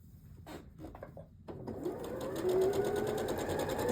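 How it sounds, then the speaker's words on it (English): A sewing machine stitches a quilt block seam with 1/4 inch allowance, a few short starting bursts then a fast steady whirring run, close and alone. "now I'm going to go ahead and sew that seam"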